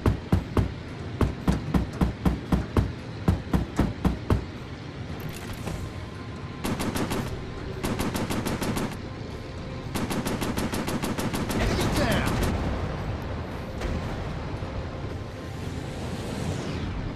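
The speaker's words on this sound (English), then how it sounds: "Gonna use cannons." Cannons firing in a WW2 VR flight game, rapid rattling bursts of repeated shots separated by short pauses, loud and close over a steady engine drone.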